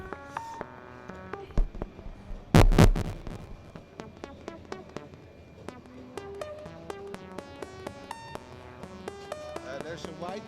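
A TINRS Wobbler modular synthesizer prototype, routed through an envelope and filter, plays a rhythmic sequence of short tonal notes with shifting pitch and timbre, with a loud, noisy burst partway through, and no voices.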